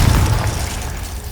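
Confringo blast spell going off in Hogwarts Legacy, a loud booming explosion with a heavy low rumble that fades over a second or so, no voices over it.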